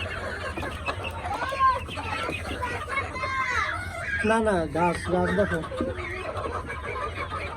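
Chickens and roosters cluck on a rooftop farm, their calls rising in short bursts under steady nearby talk.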